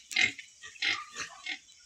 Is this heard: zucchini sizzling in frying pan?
no